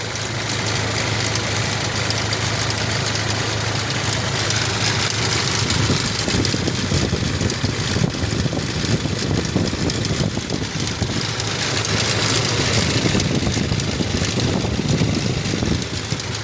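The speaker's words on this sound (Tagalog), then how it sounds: "Meron siyang knocking." An idling car engine, just after an oil change, runs steadily up close with a rough, rapid ticking knock throughout.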